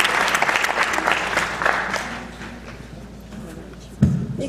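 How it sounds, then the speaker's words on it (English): Theatre audience applause at a variety show, dense clapping filling the hall at first, then thinning and fading, with a sharp thump near the end as voices begin. "You can keep clapping."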